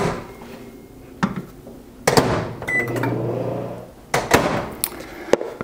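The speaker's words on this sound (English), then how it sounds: "I've microwaved it for 1 minute" Microwave oven heating chocolate for candy, with door clunks, a hum and scattered clatter of dishes and handling knocks nearby, loud and close.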